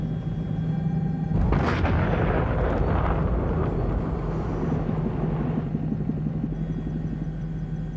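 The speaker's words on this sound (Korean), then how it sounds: "마침내 탱크로리가 폭발하면서 불길이 순식간에 주변 건물과 도로를 덮치고 맙니다." A gas tank lorry explodes into fire, a loud burst about 1.5 seconds in swelling into several seconds of roaring, crackling blast noise before easing back to a steady background hum.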